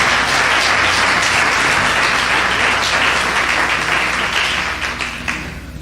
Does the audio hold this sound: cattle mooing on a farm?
no